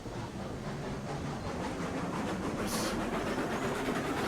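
A Heisler geared steam locomotive running in the train game RailRoads Online, a steady close rumble with a rhythmic chugging clatter and a short hiss of steam partway through.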